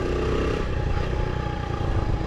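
Honda mini stunt bike engine revving hard during a wheelie, a loud, rough, continuous drone close by with clattering mechanical noise, no talking.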